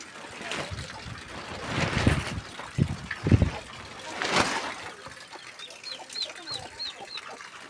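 A chicken clucks in short bursts amid close rustling and scraping, with softer clucks and faint chirps further off toward the end.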